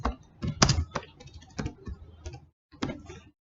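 Typing on a computer keyboard, a quick irregular run of close, crisp key clicks with a brief pause before a final few presses.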